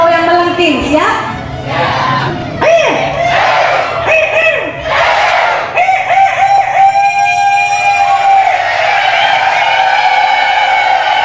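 A storytelling trainer and a group of participants in Dumai loudly imitate a shrill rooster crowing, with drawn-out rising vocal wails overlapping among crowd voices for several seconds.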